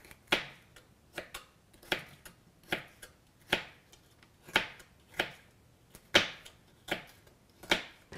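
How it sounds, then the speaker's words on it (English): A knife chops downward through vegetables on a cutting board for ranch beans, about a dozen crisp, evenly spaced knocks at a steady rhythm, close and quiet with nothing else around. "then swivel it around and then chop downward"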